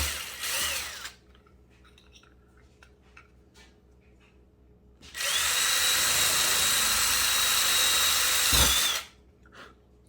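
A tapered step drill bit bores through a dashboard panel in two bursts of a loud, close, high-pitched whine, one brief at the start and a longer steady run of about four seconds, separated by quiet handling clicks.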